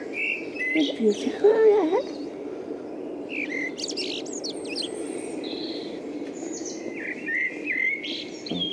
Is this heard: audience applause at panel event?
no